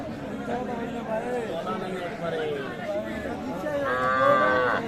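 Deshal and Sahiwal dairy cows with calves low and moo repeatedly at the Aftabganj cattle market, over a busy background of crowd chatter and nearby voices, the calls growing louder toward the end.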